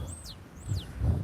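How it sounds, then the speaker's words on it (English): Birds chirping outdoors, two short rising-and-falling whistled calls in quick succession, light and somewhat distant over a low background rumble. "Like hearing the birds chirp."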